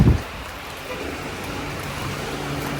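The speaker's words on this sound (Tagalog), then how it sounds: "Lakas ng ulan." Heavy rain at a campsite beats down in a dense, steady hiss, loud and close and unbroken for the whole stretch, with a short low thump right at the start.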